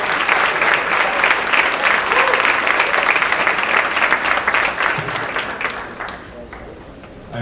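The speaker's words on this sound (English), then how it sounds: "And a big round of applause for that" Sustained applause from a large audience at a high school senior awards night, dense and steady for several seconds before thinning out and fading near the end.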